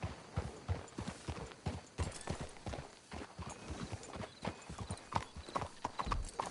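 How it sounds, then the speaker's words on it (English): Horses in Red Dead Redemption 2 plod along with steady, close clip-clop hoofbeats throughout, joined by a brief whinny; faint voices murmur underneath. "Let's hitch the horses up ahead."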